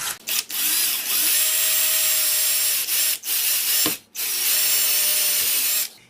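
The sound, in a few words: drilling a hole with a dull drill bit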